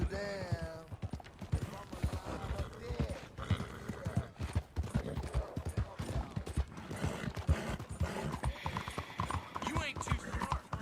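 Horse hooves clip-clop steadily in Red Dead Redemption 2, a rapid even rhythm running throughout under someone talking to the horse, with game music and ambience layered in.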